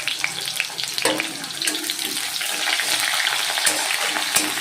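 Chopped onion hisses and crackles in hot oil in a wok after cumin seeds, a loud steady sizzle with scattered pops and a few stirring scrapes, close by and without talk.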